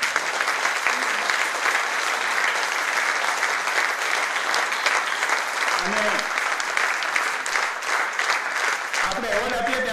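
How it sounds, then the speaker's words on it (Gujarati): An award ceremony audience claps loudly and continuously for the whole stretch, a dense, even roar of hands with a couple of brief voice fragments poking through. "ખૂબ તાળીઓ એટલા માટે પાડજો"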